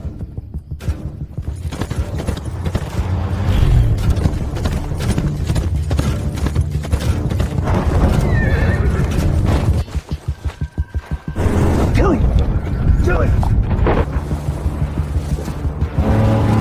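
Horse hooves clip-clopping steadily on the ground in an outdoor Western ranch scene, a continuous rhythmic trotting with a dull low thud at one point and no clear neigh.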